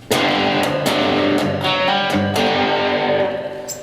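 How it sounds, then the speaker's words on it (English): Heavily distorted electric guitar strummed with gritty, sustained chords, played loud and continuous with several sharp attacks. "Only when you really play it do you hear the distortion."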